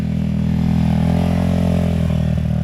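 A Geon GNS300 or CFmoto X8 motorcycle rolls along in first gear, its engine a loud, steady, close-up drone with faint mechanical clatter throughout.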